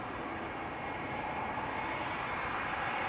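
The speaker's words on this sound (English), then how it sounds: "I do hear an engine" A jet aircraft engine at Amsterdam Schiphol Airport roars with a steady, broad rumble and a faint high whine, heard from some distance and holding level throughout.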